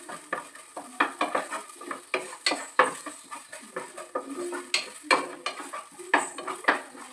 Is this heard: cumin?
yes